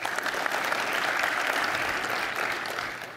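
A conference audience at OSCON 2012 claps steadily for a few seconds, and the applause fades slightly toward the end.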